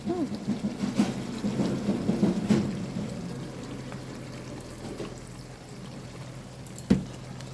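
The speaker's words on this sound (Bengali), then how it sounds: "সো আমি গোলাপ জল দিয়ে দিচ্ছি।" Rose water poured into a cooking pot, giving a soft trickling pour over the first few seconds that fades into quiet background, with a single clunk near the end.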